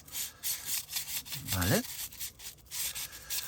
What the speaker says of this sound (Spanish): simplemente le damos vueltas y vamos moviendo el cañón dentro del papel de lija